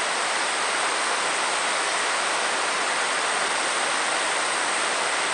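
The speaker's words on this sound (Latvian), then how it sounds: "Un šādi stiprie lieti katra pēcpusdiena Austrālijā līst." Heavy afternoon rain pours down in Brisbane, Australia, a loud, dense, unbroken roar of falling water with no voices, steady from start to finish.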